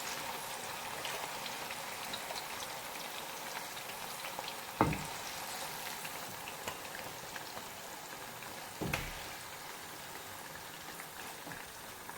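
Marinated chicken frying in a pot with browned onions for chicken biryani, giving a steady, even sizzle and bubbling hiss throughout, with two brief louder clunks from the pan partway through.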